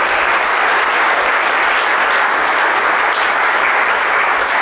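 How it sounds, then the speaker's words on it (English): A conference audience at Black Hat 2012 gives sustained, loud applause for the staff and organizers, a dense steady wash of clapping with no pauses. "I will ask you to give a big applause to all the goons, the staff, the organizers"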